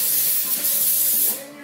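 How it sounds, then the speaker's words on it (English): Brake cleaner is sprayed from an aerosol can onto car brake calipers removed from the car, a single close, loud hissing burst that lasts over a second before tapering off. "Now spray down every single part with the brake cleaner they give you."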